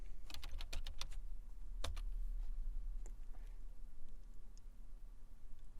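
Fingers typing a command on a computer keyboard in a terminal, a quick burst of close, crisp key clicks followed by scattered lighter taps, with no talk.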